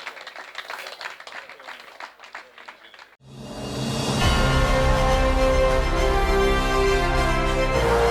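Audience applause at an award presentation where a career plaque is handed over, beginning after a few seconds of quieter sound, then swelling into loud sustained clapping mixed with music.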